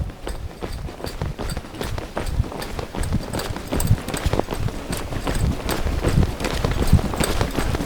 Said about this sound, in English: if I ask my horse to pick up the trot on the flat trot